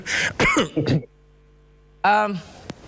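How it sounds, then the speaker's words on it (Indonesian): A single cough burst with throat clearing near the start, then near silence, followed by a short loud vocal sound and a brief click. "Izin saya batuk dulu sebentar."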